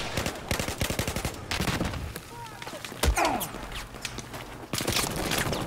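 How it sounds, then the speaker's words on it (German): Battlefield 4 gunfire crackles in rapid bursts with sharp bullet impacts and a heavy thud near the middle, while a player talks over much of the clip. "auch wenn da die Schüsse gerade einschlagen, wir laufen trotzdem hier rum"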